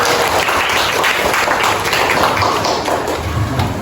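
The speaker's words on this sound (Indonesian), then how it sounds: "Kita beri tepuk tangan dulu sama-sama." A school audience in Martapura claps together in dense, steady applause that fills the whole stretch at a loud, even level.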